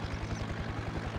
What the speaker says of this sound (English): Anyways, we are in a helicopter.